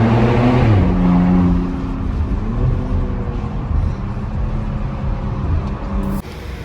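A Porsche fitted with a very loud aftermarket exhaust accelerates hard from a launch, its engine roaring close and steady for several seconds before dropping off abruptly near the end.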